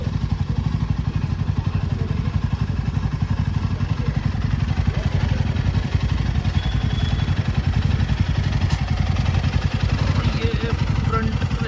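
A Royal Enfield Himalayan on newly fitted golden tubeless rims thumps along at steady riding speed, its single-cylinder beat loud, fast and even, with some wind noise over it.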